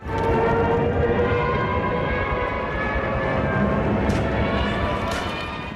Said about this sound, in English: the sound of the German Ju-87 bomber